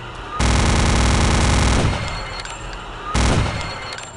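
Automatic gunfire from a weapon in the shooter game Return to Castle Wolfenstein, a loud dense burst of rapid shots lasting over a second, a brief lull, then a second burst starting near the end.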